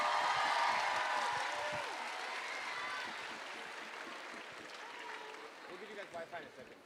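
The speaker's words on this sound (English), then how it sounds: "can we give all of the affirmative team a huge round of applause?" An audience at a school debate final applauds the affirmative team, with sustained clapping from a crowd that swells at first, then gradually fades, with a few whoops near the end.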